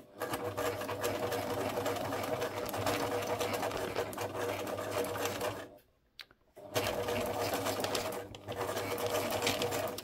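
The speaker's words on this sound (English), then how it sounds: "let's then try to sew a circle over here" A normal sewing machine stitches a circle on junk journal page edges with a loud, continuous mechanical whir, stopping briefly partway through before running again at the same pace.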